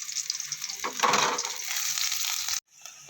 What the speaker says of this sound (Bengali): তেলটা গরম হয়ে গেছে, পেঁয়াজ দিয়ে দিলাম।